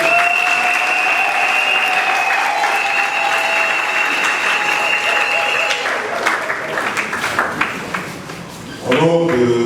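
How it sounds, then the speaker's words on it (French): Audience applause at a pharmacists' oath ceremony, steady broadband clapping that carries on for several seconds, with tonal sounds mixed in, ending in a short burst of louder noise. "Et applaudir."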